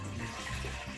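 A brief, steady rush of filtered water pouring into a saucepan, close and continuous, with a hollow watery texture and no voices.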